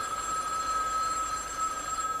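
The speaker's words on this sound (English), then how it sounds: "Till the phone rings and station wants you." A telephone bell rings steadily and loudly throughout, a continuous electronic tone with no talk over it, in an indoor scene from a TV soap opera.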